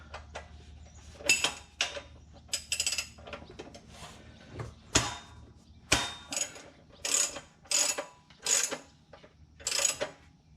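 A Harbor Freight scissor transmission jack is cranked up for a 1967 Ford truck, giving a series of close, sharp ratcheting clacks in uneven bursts, about a dozen metallic strokes with brief pauses.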